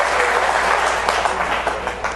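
An audience breaks into sustained applause, a thick, noisy wash of clapping that stays fairly loud throughout with no speech over it.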